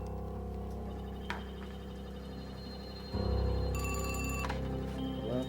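A telephone rings out loud and clear, its electronic bell tone repeating over a steady low background hum in an indoor setting.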